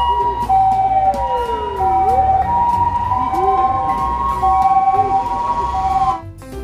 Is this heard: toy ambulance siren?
yes